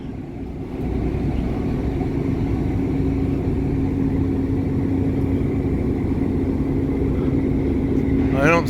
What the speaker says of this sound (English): These are obviously diesel. No steam locomotive here today.